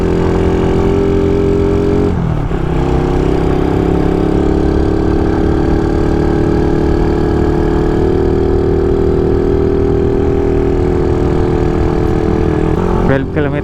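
A motorcycle engine runs steadily and loudly close by on a mountain hiking trip, with a continuous droning hum and a brief shift in pitch partway through; a person talks faintly underneath.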